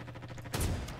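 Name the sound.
sniper rifle shot in Roblox video game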